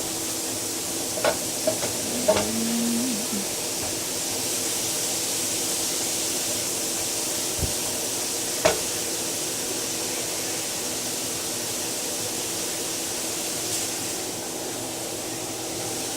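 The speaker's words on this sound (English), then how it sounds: "Stir it all up together and see if we can take a little bit more." A cauliflower mix fries in a pan, a steady close sizzle and hiss running throughout, with a few scraping knocks of the stirring utensil against the pan.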